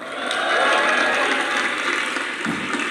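Audience applause for Akbar, a comedian stepping up next at an Unpad stand-up show, a steady wash of clapping from a sizeable crowd that swells early and holds throughout.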